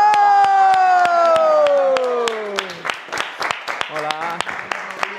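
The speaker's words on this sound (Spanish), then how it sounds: "Un aplauso, por favor." A studio audience on Operación Triunfo 2020 breaks into sharp, rhythmic clapping while voices call out loudly over and between the claps.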